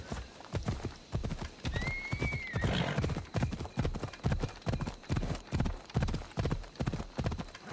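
A horse galloping in the video game Assassin's Creed Odyssey, steady rhythmic hoofbeats close up, with a brief neigh early on.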